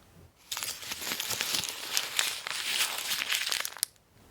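A paper cupcake wrapper crinkles and crackles close by for about four seconds, a dense run of dry rustling with a few sharper snaps, and no talking.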